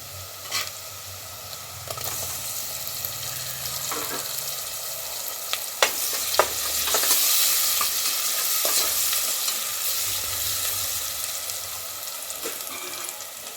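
Onion pieces frying with tomato pieces added, stirred in a pan while cooking mutton curry: steady close sizzle with scraping spatula strokes and occasional louder clatters throughout, no talking.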